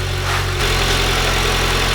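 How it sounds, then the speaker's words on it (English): A 2014 Honda Civic Si engine idles at a steady low hum with a faint vibration, continuous and close throughout, with no talking. "The engine's running."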